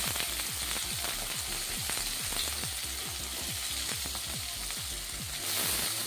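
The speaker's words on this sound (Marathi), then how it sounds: "आता आपल्या कांद्याला सुद्धा आपल्याला तेलात चांगला भाजून द्यायचा आहे अगदी सोनेरी गंजन येईल तोपर्यंत" Sliced onion frying in hot oil after green chillies, a steady close sizzle with repeated soft stirring scrapes in a regular rhythm, no voices.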